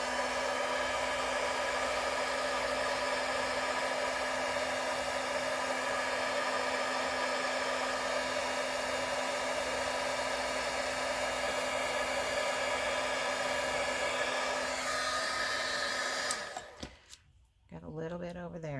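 Steady, loud whooshing roar of a heat gun blowing hot air during a faux tintype photo craft, running continuously for most of the clip before cutting off abruptly near the end.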